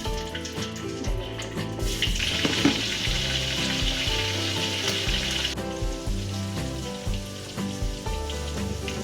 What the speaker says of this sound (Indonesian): Kita goreng ayamnya, kita angkat.